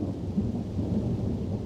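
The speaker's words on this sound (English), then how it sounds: "Outside, a storm is brewing." A brewing storm near Chernobyl: low, steady thunder rumbles under a continuous dull rain hiss, heavy and muffled, with no voices.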